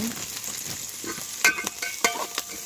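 Bean sprouts sautéing in a hot pan, a steady sizzle with sharp scrapes and clatters of a utensil stirring them at irregular moments, fairly close and with no talking.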